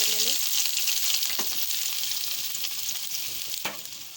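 Onions frying in a kadhai for a green pea vegetable dish, a loud, dense hiss of sizzling oil held steady and close, with a couple of brief stirring knocks.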